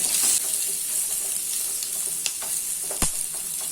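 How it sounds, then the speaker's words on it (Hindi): Onions, garlic and green chillies frying in oil in a pan over the flame, a continuous bright hiss and sizzle close by, with occasional sharp clicks of a spatula stirring and one louder knock near the end. "अभी इसको मीडियम फ्लेम पे 3 से 4 मिनट तक फ्राई कर लेते हैं। ऑनियन को थोड़ा सॉफ्ट होने तक फ्राई कर लेना है।"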